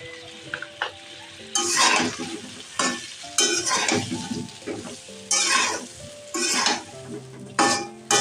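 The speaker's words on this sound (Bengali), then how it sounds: "এগুলো দিয়ে একসাথে ভালো করে নেড়ে চেড়ে নিচ্ছি" Olive pickle with salt, chili and turmeric is stirred in a pan: bursts of loud scraping and clattering spoon strokes alternate with quieter pauses over a soft sizzle.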